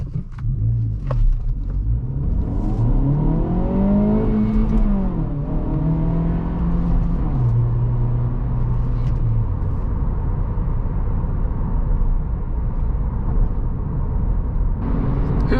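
An Acura Integra A-Spec in sport mode accelerates hard, its engine note climbing through gears with rising whine and steady cabin rumble, loud and continuous with no talking.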